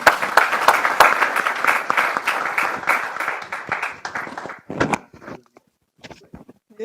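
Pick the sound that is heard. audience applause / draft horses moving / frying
audience applause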